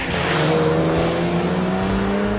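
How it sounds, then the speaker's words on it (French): A steady, rumbling Porsche 911 exhaust drone, recreated through active noise control, with rising engine pitch, continuous and fairly loud throughout, like a sports car revving. "nous avons également recoloré le son de l'échappement pour retrouver le son de la 911"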